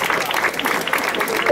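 A festival audience in Vezzano Ligure bursts into steady, dense applause, many hands clapping together at close range in a continuous even wash.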